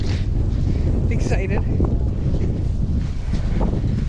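Strong wind buffets the microphone in a constant loud rumble at Evangola State Park, with a person's voice briefly heard under the roar.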